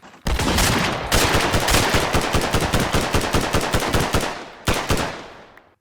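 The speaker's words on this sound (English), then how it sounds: "You can hold it down to shoot. So it is an automatic weapon" Automatic gunfire from a gun in the Minecraft mod Scorched Guns 2, fitted with an extended magazine: loud, rapid bursts of evenly spaced shots that run for several seconds, with a short break after the first burst and another near the end.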